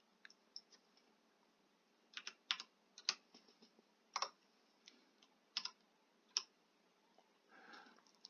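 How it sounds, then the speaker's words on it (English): Logo dimensions go in on a computer keyboard as scattered, close keystrokes in short bursts with pauses between, crisp and quiet against a silent background. "so I'll just type them in here"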